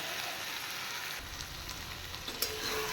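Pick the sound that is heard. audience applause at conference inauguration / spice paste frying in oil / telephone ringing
spice paste frying in oil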